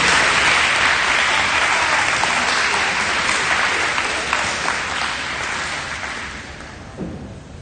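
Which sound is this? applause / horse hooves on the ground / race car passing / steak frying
applause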